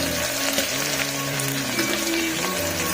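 Onions fry in a pan, giving a steady, even sizzle with a soft, rain-like crackle throughout, moderately close and with no speech.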